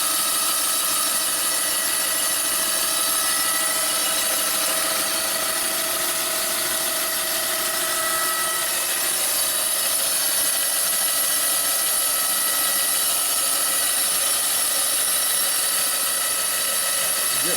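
Tatro boring machine cutting a big-bore Harley-Davidson Twin Cam cylinder, 98ci to 107ci, giving a steady continuous mechanical whine and hum that stays loud and even throughout without pause.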